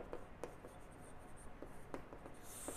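Chalk or marker strokes on a board while a trigonometry equation is written out during a lecture, a few short scratchy taps and scrapes spread over quiet room tone, no talking.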